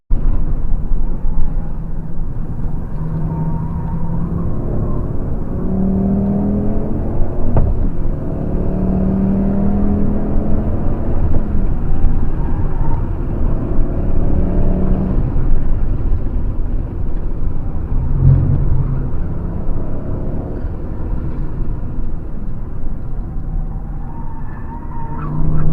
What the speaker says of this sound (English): Now listen to this engine. This 5-pot engine is absolutely sublime.